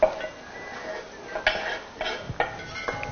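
Garlic being stirred into fried onions in a pot: a spoon scrapes and clinks against the pot in a few distinct knocks over a soft, steady sizzle, with no talking.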